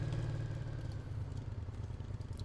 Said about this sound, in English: I can't hear you with the engine rumbling like that